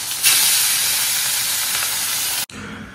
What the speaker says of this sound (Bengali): না মাছটা পুড়ে যাচ্ছে।